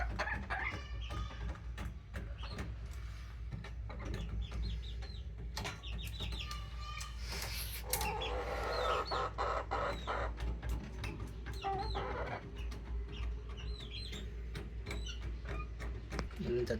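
Several young chickens cluck and peep in a farmyard, with a rooster crowing mid-way, amid frequent clicking noises and soft background talk.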